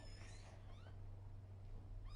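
Rescued kittens in a dish-washing basket give a few thin, high meows, close but quiet, over a steady low hum.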